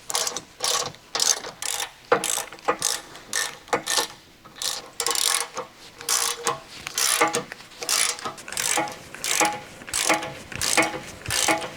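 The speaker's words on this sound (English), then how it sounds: "Use an 18mm deep socket with an extendable ratcheting wrench. Tighten the center bracket side mounting bolts." An extendable ratcheting wrench with an 18mm deep socket tightens trailer hitch mounting bolts on a Land Rover Discovery 4, a close, loud run of rhythmic clicking strokes repeating steadily.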